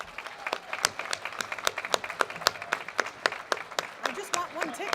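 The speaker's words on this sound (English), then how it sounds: "please stand, and everybody give them a nice round of applause" An audience applauding executive committee members at a 2018 banquet, a dense burst of many hands clapping in the room, steady and lively throughout.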